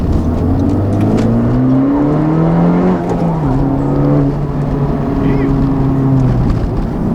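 A 2019 Honda Civic Type R with a Borla exhaust accelerates hard, its engine note climbing steadily, dropping through gear shifts, then climbing again, loud and close from inside the car.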